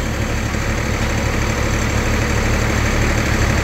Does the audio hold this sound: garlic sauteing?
no